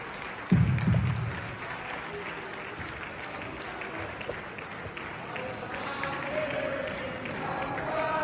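A crowd applauds at a political gathering in Nigeria, starting with a loud burst and settling into steady clapping, with voices murmuring and talking through it.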